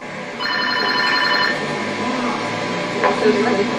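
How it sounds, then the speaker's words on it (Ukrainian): A payphone rings during an anniversary city quest game in Kharkiv, a bright repeating electronic bell that sounds for about a second near the start over busy background noise and voices. "код у телефоні автоматі, і тут лунає дзвінок"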